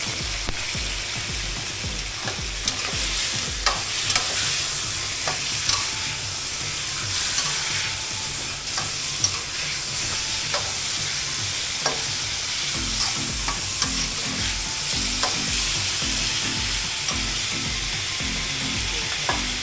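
Fresh river catfish stir-fried in a pan with a spicy paste gives a loud continuous sizzle, with frequent spatula clinks and scrapes throughout, close up.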